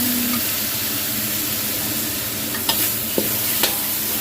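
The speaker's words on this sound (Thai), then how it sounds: "นี่กำลังผัดพริกอยู่เลยค่ะ ตอนนี้ก็ผัด พริกให้หอมก่อนค่ะ" Chilies stir-fried in a wok for crispy fried tilapia with holy basil, a steady loud sizzle with a few sharp spatula scrapes and taps near the end.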